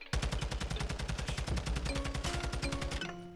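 Automatic rifle in Modern Warfare 2 fires one sustained spray of rapid, evenly spaced shots, loud and close, running unbroken for about three seconds before cutting off.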